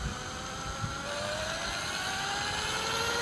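A heavy spinning wheel is driven up to a few thousand RPM, making a steady close whirring drone whose tone slowly rises in pitch as the wheel speeds up, with no voices.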